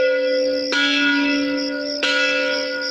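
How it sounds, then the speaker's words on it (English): A large bell on Lexington Common rings out to call the town militia, two loud clear strikes with long ringing overtones carrying between them. "Within minutes, the bell on Lexington Common calls out the town militia."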